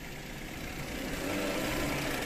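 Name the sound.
car engine running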